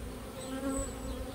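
Honeybees at a hive holding swarm cells make a steady, close, continuous buzzing hum with no talk over it.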